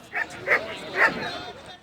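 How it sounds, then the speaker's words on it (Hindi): Dogs at a crowded dog show in Multan let out three short barks or yips over a steady hum of crowd noise, moderately close. "डॉग शो देखने शौकीन अफराद का रश लग गया। बच्चों बड़ों ने कुत्तों से खूब लाड प्यार किया।"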